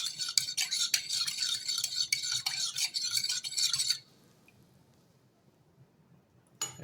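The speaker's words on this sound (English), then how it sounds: "Let's now stir this all up." A spoon stirs a hydrated yeast mixture for onion buns in a bowl, scraping and clinking rapidly for about four seconds, then stops, leaving near silence before a brief clatter at the close.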